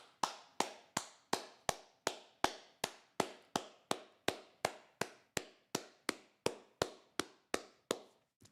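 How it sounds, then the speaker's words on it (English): One pair of hands claps for Chicago Blackhawks player Pat Maroon at the home-finale game against the Winnipeg Jets, about twenty crisp, close claps in a steady, even rhythm with no other sound. "Can we get claps for Patty,"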